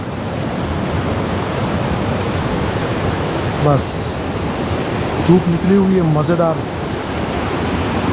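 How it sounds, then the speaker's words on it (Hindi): Rushing river water in Leepa Valley, a loud, steady broadband roar filling the scene, with someone briefly talking over it. "सिर्फ पानी का शोर है"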